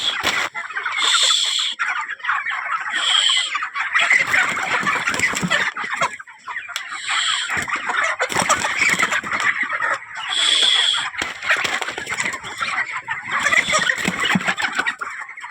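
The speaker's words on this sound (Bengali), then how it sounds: "এই দেখ একটা কালো মুরগি চলে এসে" A black poultry chicken clucks repeatedly nearby in loud, scratchy bursts with short pauses between them, other fowl chatter filling the background.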